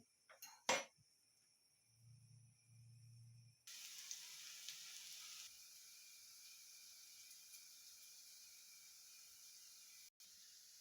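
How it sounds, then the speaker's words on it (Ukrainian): Steady sizzling of potato pancakes frying in a pan, with a clink and a brief low hum early on, then a louder, constant hiss. "Смажимо далі."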